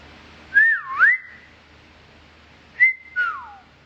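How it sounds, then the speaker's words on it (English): Two short whistled phrases from a person, each a quick rise and swooping fall, close and clear with a pause between them in a quiet room. "How to whistle, right?"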